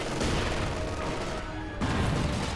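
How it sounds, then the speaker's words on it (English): Mortar fire in the Company of Heroes 2 video game, a 2v2 match on the Rails and Metal map, rumbling as dense, continuous battle noise with a brief dip before a renewed burst of explosions, with no talk. "Mortars are trying to help."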